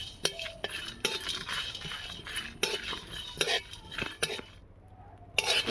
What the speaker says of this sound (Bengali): ধনে, মৌরি, কয়েকটা লবঙ্গ আর জিরে, ওটা আমি ভালো করে শুকনো খোলায় ভেজে নেব